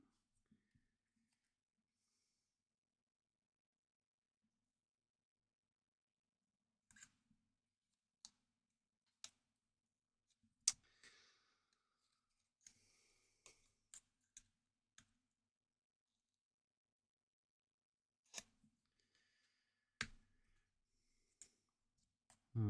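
Scissors cut paper for a papercraft model of the USS Enterprise NCC-1701-D bridge, giving sparse sharp snips and clicks, close and quiet, scattered with long silences between.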